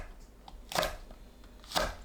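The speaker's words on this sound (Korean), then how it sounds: "청양고추, 홍고추를 1cm 길이로 썰어주세요" A knife chops cheongyang green chili and red chili peppers into short pieces on a cutting board: two distinct, sharp chops about a second apart, close and fairly quiet, with no talking.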